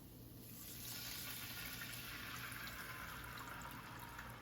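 Bourbon sauce pours into a skillet in a steady, soft liquid gush and sizzle-like hiss that stays even and close for several seconds, with no talking.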